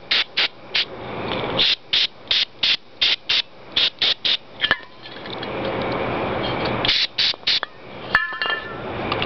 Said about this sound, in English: You want to just spray the whole bolt.